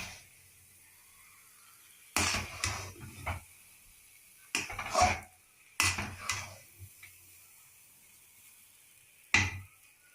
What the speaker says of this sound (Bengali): থালায় আমি তুলে নিচ্ছি